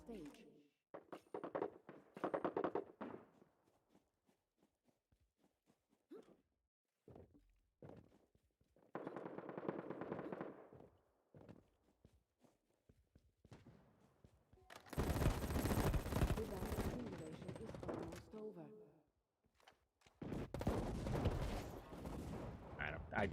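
Bursts of gunfire from the video game Battle Prime come in loud clusters, with stretches of quieter footsteps and game noise between them, and a voice talks in places.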